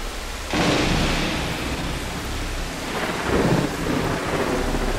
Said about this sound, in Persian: دوباره بارون گرفت